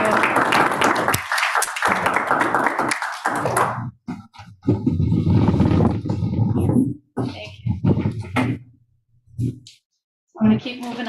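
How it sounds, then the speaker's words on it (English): Audience clapping fills a school committee meeting room for about four seconds, dense and close, then gives way to scattered talking, brief bursts and quiet gaps. "All right, now we can clap again."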